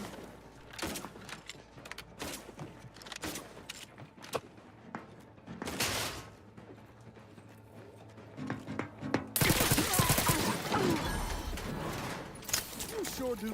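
Gunfire in The Outer Worlds 2, scattered sharp shots and short bursts that build into a dense, loud barrage near the end, with occasional voices in between.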